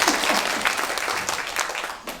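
An audience at a political talk event applauds with brisk, lively clapping, fairly close and loud, tapering slightly toward the end.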